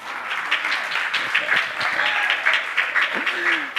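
A live audience applauds at a transgender community storytelling and dance event, a steady wash of clapping across the whole stretch with a voice or two breaking through.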